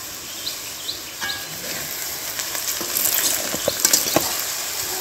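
Village-raised country chicken fries with onions, turmeric, chili powder, coriander powder and salt, a steady close sizzle with scattered stirring scrapes that thicken toward the end, while faint birdsong drifts in from outdoors.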